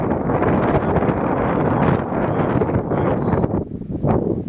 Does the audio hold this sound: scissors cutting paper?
no